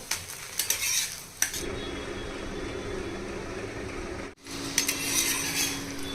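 Wheat-semolina bobbatlu roasting on a pan, a steady sizzling hiss with a few scraping and tapping clatters of a spatula at the start and end, close and even.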